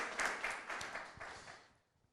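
Audience applause for Reverend Dr. Wolanyo Mensah, APC running mate, at a televised regional political parties dialogue on fisheries: a dense burst of clapping that thins and fades away within about two seconds.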